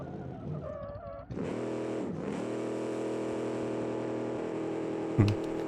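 A drag race car in the BeamNG video game starts and then roars at a sustained high pitch, steady and loud, with a brief louder burst near the end.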